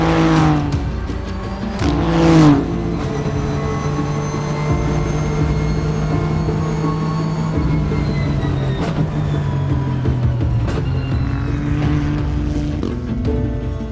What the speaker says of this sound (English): nothing came close to the Nissan GTR, Nismo GT3 that I got to drive